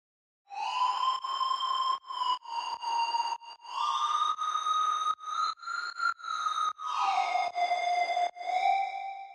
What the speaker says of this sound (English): here I'm gonna show the lead on this track. This is a really reverbed out sound.